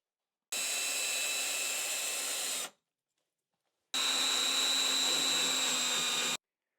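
A power drill drives screws into interior shutter hinges in two steady, loud whirring bursts of a couple of seconds each, with a silent pause between them and no talk.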